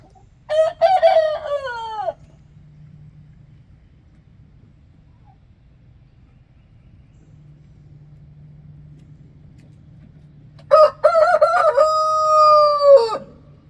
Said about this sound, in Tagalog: Ang ating mga cute na mga manok.